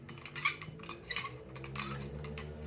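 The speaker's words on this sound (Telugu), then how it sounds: "ఈ ప్లేట్ తీసుకున్నాను." A metal murukku press plate is picked up, giving a few light metallic clinks and rattles with one sharper clink near the start, close and fairly quiet with no talk.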